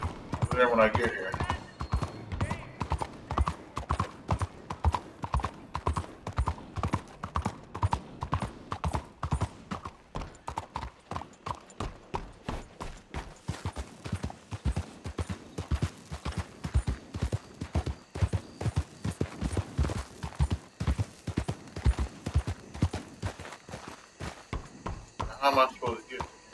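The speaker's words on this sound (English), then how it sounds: "Oh, my horse is right there." A horse gallops steadily in Red Dead Redemption 2, its hooves pounding in a quick, even rhythm close up for the whole stretch, while a player's voice comes and goes over the hoofbeats.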